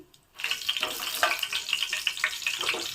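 Half a teaspoon of shahi jeera and a bay leaf dropped into hot oil for a hotel-style cashew paneer curry, bursting into a steady, close hiss and crackle after a brief quiet start, with no talking.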